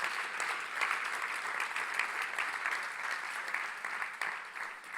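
A church congregation applauds in worship, giving steady, even clapping from many hands for several seconds. It sounds fairly close and full, and no voices are heard over it.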